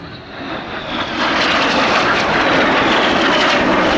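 Royal Air Force Red Arrows jets roar through an air festival display manoeuvre, a loud, steady, rising jet rush that swells over the first second and then holds at full strength, with no voices.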